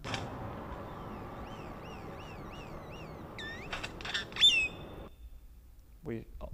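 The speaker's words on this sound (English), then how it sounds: "So this is the grackle sound dry." Unprocessed grackle calls: a run of repeated rising, whistled squeals followed by a few harsh, buzzy squawks and clicks, fairly close and clear over a low, steady background hum.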